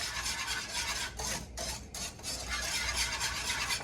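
Eggs being stirred and scraped in a pan for Filipino fried rice, with steady rasping strokes over a soft sizzle, a few brief pauses between scrapes, close and moderately quiet with no talking.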